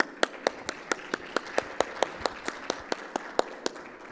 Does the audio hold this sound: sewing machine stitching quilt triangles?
no